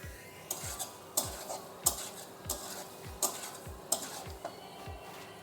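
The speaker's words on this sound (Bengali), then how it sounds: "দেখুন এখন আমি ভালো করে কষিয়ে নিচ্ছি, একটু সমস্ত মশলা এইভাবে মিলিয়ে দেবো।" Spices with chicken gizzard and jackfruit are stir-fried in a pan: a spatula scrapes in a steady rhythm of roughly one sharp metallic stroke every half second over a faint sizzle, no talking.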